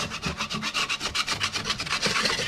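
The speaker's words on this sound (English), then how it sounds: "Scrape." Old silicone scraped off a bedroom wall in quick, rhythmic rasping strokes, about a dozen close, even scrapes in a little over two seconds with no talk.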